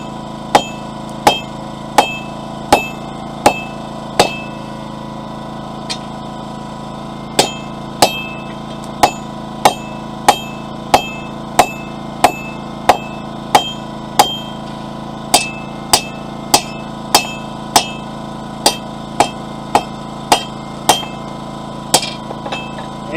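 Steel is hammered on a cold anvil while forging a fire poker: a long, steady run of bright, ringing metallic strikes at a regular, unhurried pace, close and clear with no talking.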